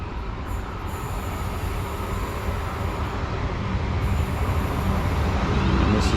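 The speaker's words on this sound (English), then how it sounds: "here comes our train. 10 carriages, so it's quite a long one." A long ten-carriage Southwestern train rolls into an English station, a steady loud rumble of wheels and carriages building gradually, with faint high wheel squeal over the continuous roar.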